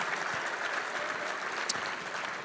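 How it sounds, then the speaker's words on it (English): Audience applause at a welcome night held at the JW Marriott Desert Springs resort, a steady dense wash of clapping filling the whole stretch at moderate loudness. "How about a big round of applause for the lovely JW Marriott at Desert Springs."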